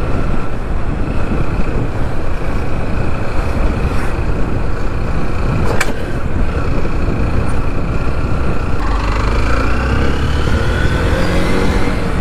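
A car drives and manoeuvres through city traffic, its engine and road noise forming a loud, constant rumble with wind buffeting throughout and a faint rise in engine pitch toward the end.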